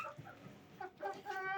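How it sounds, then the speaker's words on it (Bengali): Brahma chickens, kept with Fayoumi and local birds in a room inside a building, give a few soft, close clucks and short calls over about a second and a half, with a voice faintly nearby. "এই আছে আমার মুরগিগুলো, এই যে দেখুন,"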